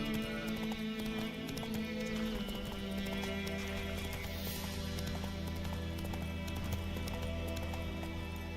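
Horse hooves clip-clop in a steady rhythmic gait, moderately close, over a constant background of ambient music and environmental sound, with no talk.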